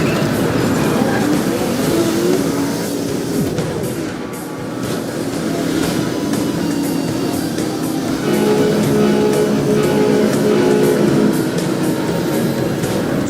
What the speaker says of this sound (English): Don't get hit by the train